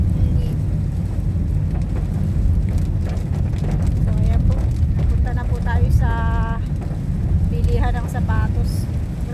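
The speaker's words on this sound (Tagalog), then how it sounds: "Grabe, lakas ng ulan mga kalinga. Pinabot kami ng ulan." Heavy rain pours down in a steady broadband roar outdoors, loud and continuous throughout, with brief tonal sounds in the background toward the middle and end.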